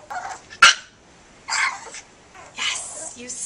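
A small Pomeranian lets out several short, high yips and barks in separate bursts, close and fairly loud, with a sharp sneeze-like snort early on.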